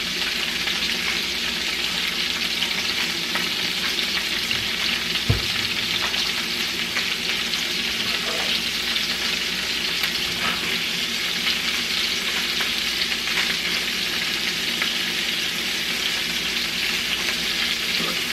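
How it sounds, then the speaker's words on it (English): Mixed vegetables sauteing in butter and olive oil with garlic, a steady dense sizzle and crackle that runs without a break, close and fairly loud with a couple of faint utensil knocks. "let that go ahead and start cooking the underneath layer of that"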